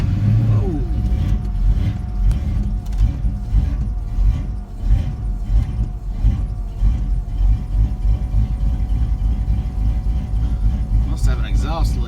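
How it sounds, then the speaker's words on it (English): A rough, rumbling V8 engine in a 1998 Ford Ranger pickup with an exhaust leak idles and revs with a ticking, puffing exhaust noise, loud and close, with people talking over it. "Must have an exhaust leak."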